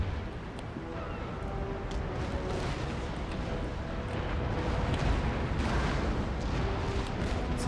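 Naval cannon fire rolls continuously from warships in the strategy game Empire Total War, a dense, rumbling barrage of overlapping booms with sharper reports scattered throughout.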